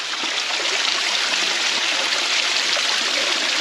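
Small waterfalls of water pour at the end of a mountain road, a steady broadband rush and splash that stays loud and even throughout, with no talk.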